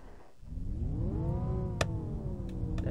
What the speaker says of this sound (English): Let's engine start.